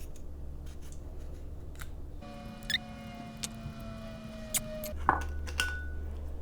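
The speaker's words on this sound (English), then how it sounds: "I'm going to peel it. Look at how cute this peeler is." Beet peeled with a small vegetable peeler, a run of scraping strokes and a few sharp clicks, fairly close and quiet, with no talking.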